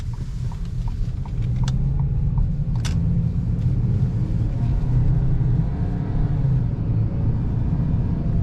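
A 2025 Ford Maverick XLT pickup driving on a road, heard from inside the cab as a steady low engine and road rumble with a few faint clicks and ticks, no talking.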